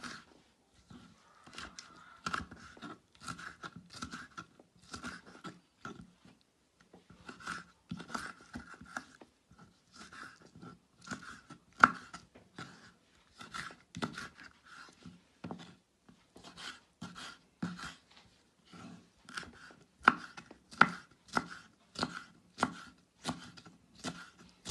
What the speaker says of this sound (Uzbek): Bolgarsklarimizni ham mana shu shaklda quyuq to'g'rab olamiz.